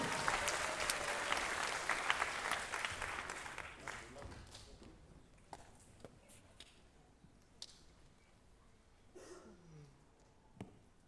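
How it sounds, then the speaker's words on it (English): An audience at an arts festival closing ceremony applauds the dance department; the thick clapping is strongest at first, then thins and fades to near quiet, leaving only a few scattered claps. "Give them a round of applause, please, ladies and gentlemen"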